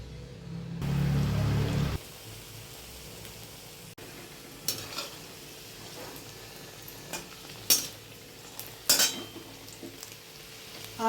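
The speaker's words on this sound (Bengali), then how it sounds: "এবার সিঙ্গারাগুলো ছেড়ে দেব।" Samosas drop into hot white oil in a wok with a brief loud splash, then a steady soft sizzle runs on, broken by a few sharp metal clinks of a utensil against the pan.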